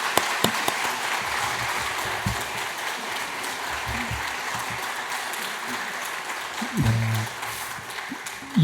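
Congregation applauds during a church service, a sustained dense clapping that carries on steadily, with a few sharper claps and faint voices mixed in.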